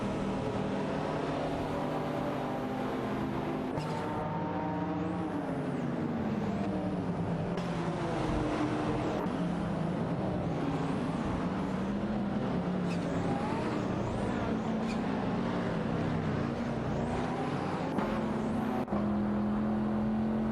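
Engines of De Tomaso Pantera race cars in a racing video game, a steady, loud drone with gear-shift pitch sweeps and overlapping cars throughout, no voices.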